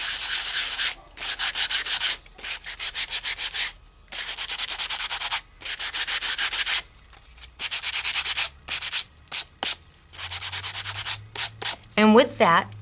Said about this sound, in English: I'm going to hit it a little bit with my Sand It gadget.